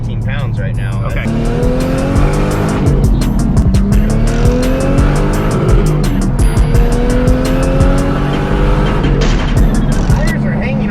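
Boosted Lexus IS300 under hard acceleration, engine roaring loud and close with rising pitch sweeps through gear pulls while the tires squeal continuously over it.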